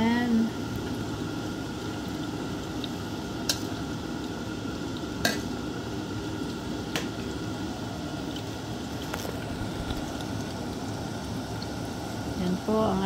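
Bola-bola simmering and frying over a low fire, a soft continuous sizzle with occasional sharp clicks of utensils against the pan, steady and fairly quiet throughout.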